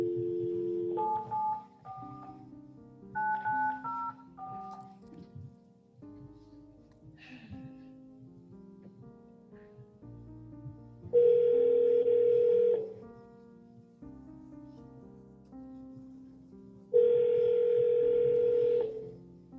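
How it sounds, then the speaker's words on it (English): A telephone call from a virtual court session gives a sequence of dialing tones and beeps, followed by two longer, louder sustained ringback tones spaced several seconds apart, with no talk. "Let me see if I can call him on the phone."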